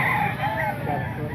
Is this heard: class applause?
no